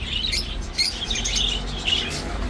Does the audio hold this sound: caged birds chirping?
yes